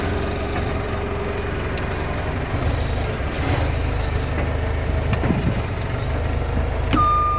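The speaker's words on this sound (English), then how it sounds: "Alright, let's run this forklift." A large forklift with big tires runs with a steady low engine rumble throughout, a continuous mechanical drone with occasional brief knocks and a short high tone near the end.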